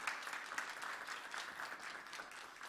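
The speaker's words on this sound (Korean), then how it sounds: "큰 박수 쳐주시기 바랍니다" A church youth congregation claps for a graduate of a basic discipleship course, brief steady applause from a moderately sized crowd in a worship hall.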